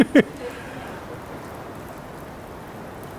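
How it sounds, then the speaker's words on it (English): Steady rain patters softly on an outdoor surface, forming an even hiss after a brief knock at the very start. "Sounds like it's raining in."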